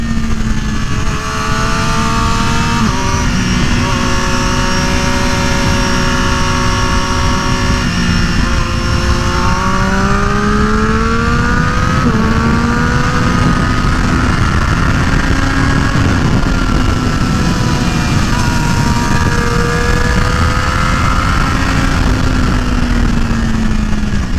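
Triumph-style Daytona 675R sport bike with a Yoyodyne slipper clutch on a race track, its engine loud and close throughout, pitch sweeping up and down through gear changes and downshifts into a corner, with a rider's voice over it.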